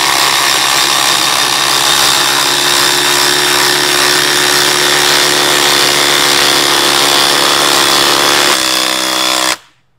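An impact driver runs continuously and loudly at close range as it drives a 14 mm, 6-inch lag screw, holding a steady buzzing whine for about nine seconds before cutting off abruptly.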